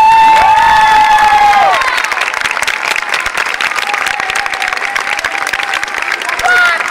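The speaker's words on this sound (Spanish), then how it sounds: "Y quiero pedir un fuerte aplauso para esta pedazo de banda que tengo." A concert crowd applauds and cheers loudly for the band, with shouts rising over dense clapping. A sustained musical tone rings briefly at the start and the crowd noise carries steadily to the end.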